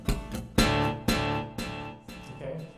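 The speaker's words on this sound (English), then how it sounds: "It's called a quarter note delay. Just kind of a standard echo." Guitar notes ring out through a quarter note delay, each plucked note followed by evenly spaced echoes repeating at a steady pulse, fairly close and clear with no one talking.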